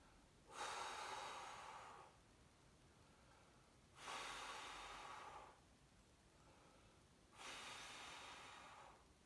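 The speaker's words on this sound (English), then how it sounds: "So if I breathe out," Someone breathes out slowly during an upper back stretch, three long, soft exhalations spaced a few seconds apart, close and quiet with no talk.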